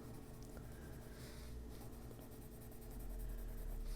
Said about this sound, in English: So I'm using this pencil lightly.